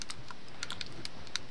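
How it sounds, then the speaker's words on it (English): Keystrokes tapping on a computer keyboard during a gaming session, a quick irregular run of clicky presses at close range with no talk over them. "I'm just laughing at Christian's typing."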